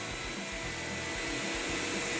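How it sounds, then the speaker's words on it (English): A vacuum cleaner runs steadily beside a floor buffer on an old wood floor being sanded with 320 grit, a constant loud broadband whine and rush with no talk. "I'm gonna turn the vacuum on."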